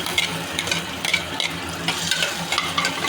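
Sliced onion fries in hot oil inside a pressure cooker, giving a close, steady sizzle with light stirring scrapes and no voices.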